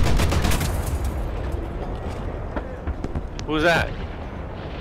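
Gunfire and explosions in a tank video game: rapid bursts of shots and booms crowd the opening second, then scattered cracks follow under excited talking.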